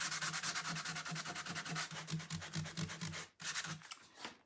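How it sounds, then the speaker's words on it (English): A small electric sander works over painted furniture, its gritty rasp pulsing in a steady, rapid rhythm with a brief pause near the end, close and alone. "I've got this handy dandy little sander here"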